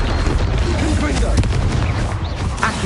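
Confringo, the explosive spell, cast in Hogwarts Legacy: a dense, steady roar of blasts and crackling impacts with a few sharper cracks, loud and continuous with game effects layered throughout.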